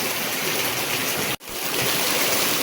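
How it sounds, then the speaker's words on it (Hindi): Heavy monsoon rain, with water pouring down off a roof and drains spilling below, producing a dense, steady rushing hiss that briefly cuts out for a moment before resuming. "पीछे ये ऊपर छत से पानी गिर रहा है"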